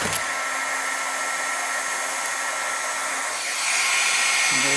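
A heat gun blows hot air onto a servo horn on a Redcat RC car, a steady close hiss that lifts slightly in pitch and loudness near the end.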